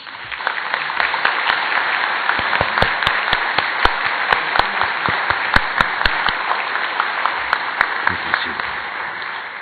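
Sustained applause from an audience at the dfcon2015 award ceremony fills the whole stretch, dense and steady, with sharper individual claps standing out from the wash.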